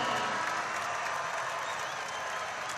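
A college basketball crowd at a San Francisco versus Boise State game applauds and cheers in a steady, dense wash of clapping, with a commentator's voice faintly mixed in.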